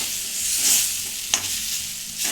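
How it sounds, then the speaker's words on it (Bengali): Ground dal paste fries in oil in a wok with a steady sizzle while a utensil stirs and scrapes it, with one sharp scrape mid-way and no talking. "এটাকে এইভাবে নেড়ে নেড়ে শুকনো করতে হবে।"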